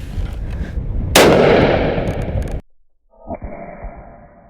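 A single loud rifle shot from a 7 PRC fired outdoors, a sharp crack followed by a long rolling echo that fades out, then a quieter thump after a short silence.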